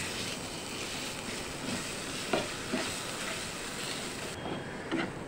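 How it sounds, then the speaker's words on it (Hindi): Mawa, or milk solids, roasts with raisins in a pan, producing a faint, even sizzle under a few soft scraping stirs, quiet and close with no speech. "इसे भी इसमें डाल देते हैं और अच्छे से भून लेते हैं।"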